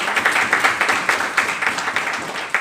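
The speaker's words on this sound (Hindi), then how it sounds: "उनके लिए भी जोरदार तालियां" Audience at a training programme event in Raipur clapping together, a dense run of individual claps with a fairly quick rhythm, moderately loud and close throughout.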